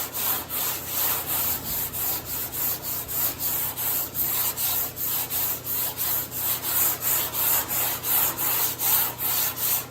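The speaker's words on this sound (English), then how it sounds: "Can't push very hard here, eh? It makes it hard to sand." Rhythmic hand sanding on a flimsy, unsupported body panel of a 1965 Chevy C10 truck, with steady back-and-forth rasping strokes that repeat about twice a second, close and continuous with no talking.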